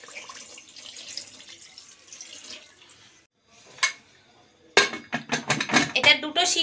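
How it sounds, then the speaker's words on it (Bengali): Water is poured into a pot holding goat udder with salt, ahead of boiling in a kitchen; a brief splash comes first, then a burst of pouring and clattering near the end. "জলটা দিয়ে দিচ্ছি"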